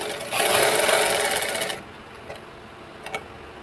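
A sewing machine stitches a lined blouse at marked points, running steadily for about a second and a half before stopping, followed by a few faint clicks and handling sounds.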